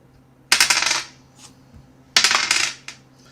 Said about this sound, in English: Well, I failed on the first dice, and then I rolled another.